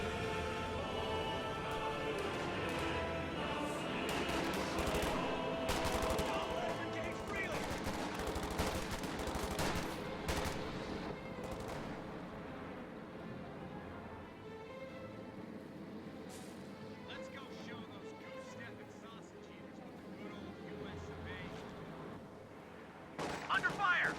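Video game battle with sustained gunfire and machine-gun bursts, including heavy Jackson tank fire, a dense rattling barrage that gradually thins out, with faint voices mixed underneath.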